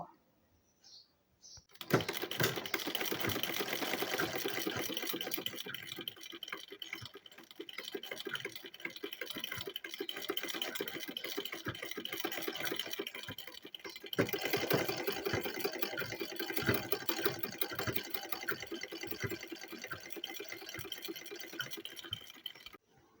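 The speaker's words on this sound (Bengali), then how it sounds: "এইভাবে ধরে তারপরে কোমরের লাইনটা সেলাই করে নেব" A sewing machine stitches the waistline of a pair of pants, starting after a brief silence and then running in a fast, continuous rattling whir with a short pause partway through, close and steady.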